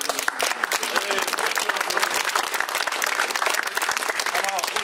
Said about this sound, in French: On peut l'applaudir Jean-Claude